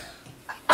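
A child sneezes once, a single sharp burst at the very end after a short, quiet lead-in, with a faint small sound just before it.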